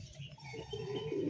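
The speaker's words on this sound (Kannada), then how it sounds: "ನೋಡಿ, ನಮ್ಮ ಪಾರಿವಾಳ ಎಷ್ಟು ಫ್ರೀಯಾಗಿ ಆರಾಮಾಗಿದ್ದಾವೆ" Pet pigeons kept at home, resting freely: soft, quiet cooing with a low warbling tone, short and close, with no talk over it.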